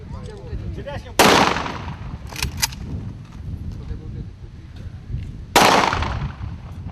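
Two loud, sharp rifle gunshot cracks several seconds apart ring out at a military battalion's anniversary event, over a steady murmur of crowd voices and background chatter.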